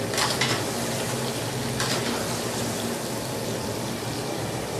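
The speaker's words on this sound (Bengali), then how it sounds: "এই যে পনির ভাজা হচ্ছে" Paneer frying in a pan for paneer butter masala, a dense, steady hiss of sizzling oil throughout with a couple of brief brighter crackles near the start.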